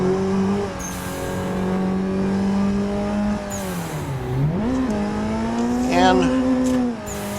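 A car drifting after a clutch kick with no handbrake, its engine droning steadily near a rev limiter while the pitch dips and climbs and tires squeal. A voice briefly speaks over it.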